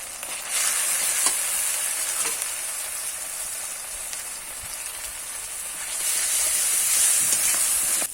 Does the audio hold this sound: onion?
yes